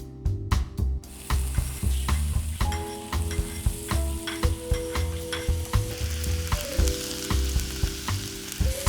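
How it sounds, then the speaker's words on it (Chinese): Minced ginger fries hard in hot oil in a wok, a loud continuous sizzle with rhythmic spatula scrapes and clinks running throughout. "锅中下油，爆香姜末"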